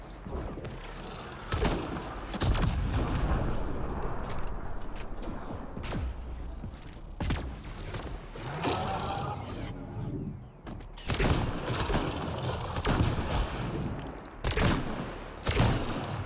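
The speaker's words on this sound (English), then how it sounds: "Can't really tell how big the explosions are." Explosions and gunfire in a Mass Effect Andromeda multiplayer match, with repeated sharp booms and bursts separated by short lulls, mixed with mechanical game effects and rattling.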